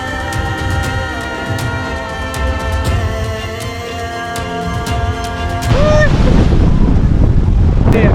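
Wind buffets the microphone at the Kanyakumari seashore where three seas meet, with a loud, constant roar of wind and surf that grows heavier in the last few seconds.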